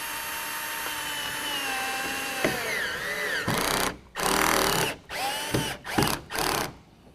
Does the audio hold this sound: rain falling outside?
no